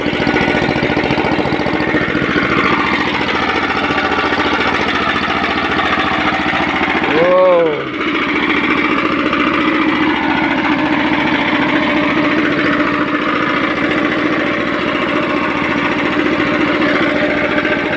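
A 9-horsepower water pump engine mounted on a farm vehicle runs steadily at close range, a continuous mid-pitched drone that holds for the whole stretch, briefly overlaid by a short rising-and-falling tonal sound near the middle.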